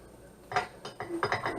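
Metal parts of a KitchenAid meat grinder attachment being fitted together, a short run of light clinks and clacks close up, several quick taps in a row.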